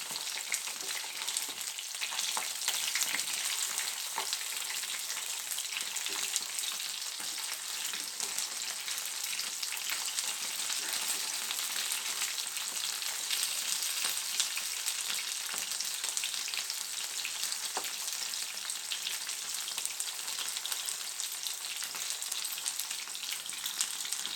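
Pandugappa fish fillets frying in a pan, a steady dense hiss of sizzling oil that stays even and close for the whole stretch, with faint stirring touches and no talk.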